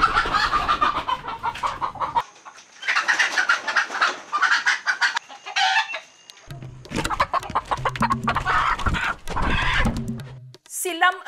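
Chickens cluck and squawk nearby in busy, overlapping bursts while being caught for slaughter, with a rooster-like call and other farmyard noise mixed in.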